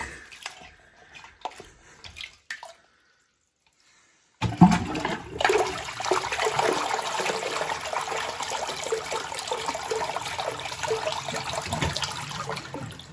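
A bathroom toilet flushes: brief handling noises come first, then a short silence, then a loud, close rush of water that settles into a steady gurgling refill.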